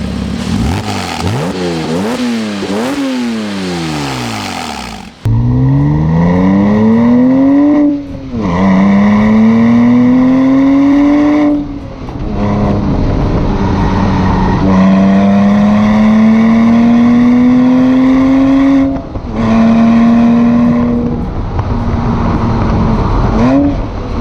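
A Porsche 987 Boxster S engine revs hard through several gears, each pull climbing in pitch before a short break at the shift, loud and close.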